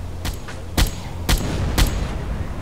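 Three sharp, evenly spaced bursts of gunfire ring out in the Silent Hunter 4 submarine game, loud over a steady background rumble with no talking.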